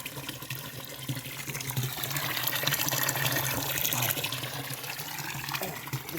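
Water gushes steadily out at a newly built village fishpond, a loud continuous rushing and splashing with occasional voices faintly underneath.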